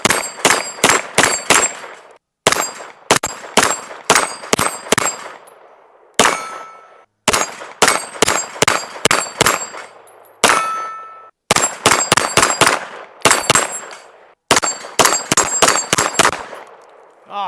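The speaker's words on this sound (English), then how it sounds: "you can shoot this gun really fast" Springfield Kuna 9mm pistol-caliber carbine fired rapidly at steel targets, loud strings of four to six sharp shots each ending in a bright metallic ring, repeated in quick bursts with brief pauses between strings.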